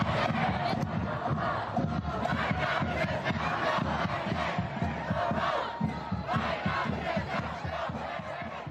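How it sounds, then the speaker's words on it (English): Large crowd at a Pennsylvania rally for Joe Biden shouting and chanting in unison, a loud, dense roar with rhythmic bursts that carries on without a break. "That's the response the crowd in Pennsylvania gave Joe Biden"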